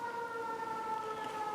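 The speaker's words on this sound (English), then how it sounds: "I'm hearing sirens" Distant emergency siren heard outdoors amid nearby wildfires, a faint steady wailing tone held throughout with no talk over it.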